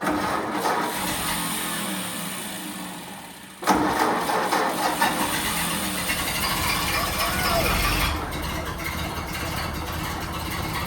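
A 1931 Ford Model A pickup engine cranks and fires about midway, then settles into a steady, fairly loud idle with a low mechanical rumble, while people talk nearby.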